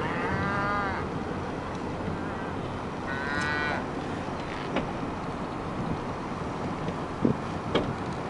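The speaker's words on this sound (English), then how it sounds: "This is free range cattle." Free-range cattle on a road at Waggoner Ranch near Wichita Falls moo twice at a distance, a low drawn-out call early and another a few seconds later, over wind and outdoor rumble with small knocks.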